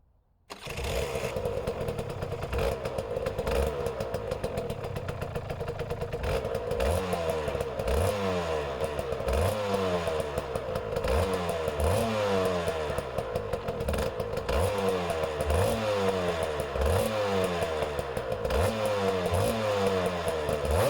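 An Aprilia RS 125 motorcycle with new gold Renthal sprockets being ridden, its loud two-stroke engine revving up and down through repeated gear changes close by, with a steady rising and falling pattern and no talking.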